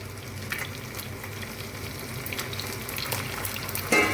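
Katla fish head and green chillies frying in oil for dal, a moderate steady sizzle with a few faint stirring scrapes and a small clatter at the end.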